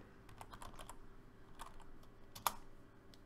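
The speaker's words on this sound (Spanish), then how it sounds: "pueden teclear eh, el nombre de la compañía" Quiet, scattered keystrokes on a computer keyboard as a company name is typed into the Interactive Brokers TWS trading platform, with one sharper click partway through and no talking.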